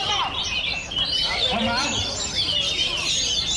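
A magpie-robin sings in quick, varied chirps and whistles at a songbird contest, fairly close, over a busy background with faint murmuring voices.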